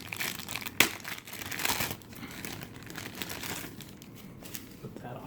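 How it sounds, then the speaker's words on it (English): Bubble wrap and a plastic bag are peeled off a figure's hard plastic pillow, giving close crinkling and rustling with a sharp crackle near the start, then softer intermittent handling noise. "It's wrapped in some bubble wrap, and then inside it's wrapped in plastic."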